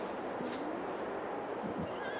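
A horse whinnies in Farming Simulator 22, a rising and falling neigh over a steady ambient wash, fairly distinct.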